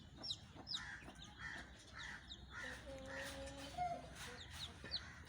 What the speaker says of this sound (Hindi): असील मुर्गी है, असील मुर्गा है